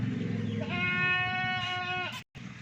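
A Rajanpuri goat on a goat farm gives a single long, wavering bleat up close, loud and clear over faint background noise.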